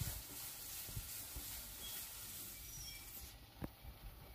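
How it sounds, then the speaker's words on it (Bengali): Spice paste fries in oil in a pan for a Bengali banana-flower curry, giving a soft, steady sizzle with a few faint stirring clicks, quiet and close. "এখন ভালো করে মশলাটাকে কষাতে হবে।"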